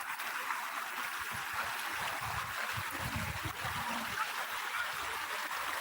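Rising floodwater of the Katakhal river flowing, a constant broad rushing wash with low gurgling swirls, steady and moderately loud, with no talking.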